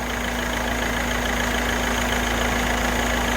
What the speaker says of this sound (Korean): 아주 정숙한 엔진 소리를 나타내고 있습니다